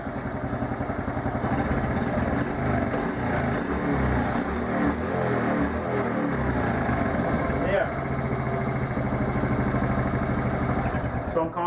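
A Honda TRX70 quad's small engine idles steadily and loudly right after a single pull-start, with an untuned carburetor, a constant near drone lasting throughout.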